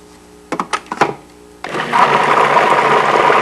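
A Cuisinart PowerPrep Plus food processor mixing custard batter in its work bowl: a few quick thumps and scrapes, then the motor starts and runs at a loud, steady whir until the end.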